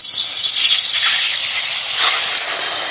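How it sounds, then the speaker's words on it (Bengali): Water hits a hot wok set up for a sugar syrup, sending out a loud, steady hiss of steam that holds for a few seconds, with no talking. "তার জন্য আমি কড়া ভেবে বসিয়ে দিয়েছি, দিয়ে দেবো জল"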